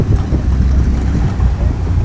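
Steady, loud headwind buffets the microphone over open water during a Princeton versus Navy heavyweight men's rowing race, a low continuous rumble with no clear breaks.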